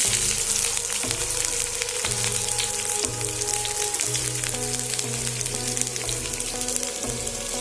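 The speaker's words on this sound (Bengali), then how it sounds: "তেল গরম হয়ে গেছে, আমি এর মধ্যে দিয়ে দেবো 5টা কাঁচা লঙ্কা" Sliced green chillies fry in hot oil on a tawa, giving a loud, steady crackling sizzle through the whole stretch, with a faint background hum and no talking.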